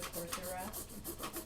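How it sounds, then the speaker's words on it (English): A hand rasp files down the corners of a mechanical keyboard case in quick, even back-and-forth strokes, a faint, close scraping rhythm with no voices. "quite a lot more has to come off of these corners in order to make this fit. So let's keep on filing here."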